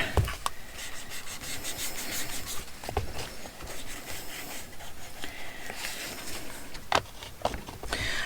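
Ink is rubbed along the edge of a junk journal page, soft scratchy scuffing strokes repeating close by at an irregular rhythm, with no talking.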